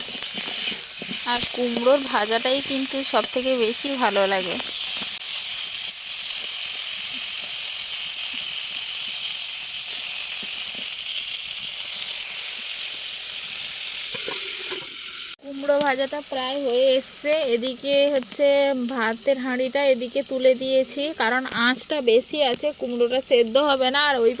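Pumpkin slices fry in hot oil with a steady, close sizzle and hiss that runs throughout, while a person talks over it in the first and last stretches.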